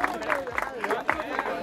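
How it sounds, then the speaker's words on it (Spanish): Crowd at a motocross prize ceremony in Formosa applauds a trophy winner, with steady clapping and cheering mixed with babble, fairly close and continuous over a short stretch. "aplauso enorme para él."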